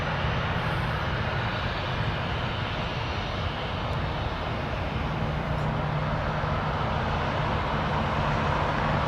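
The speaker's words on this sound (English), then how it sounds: "Taxiing." An airliner taxiing at Toronto Pearson airport gives a loud, unbroken engine drone with a low rumble that holds steady throughout and has no voices over it.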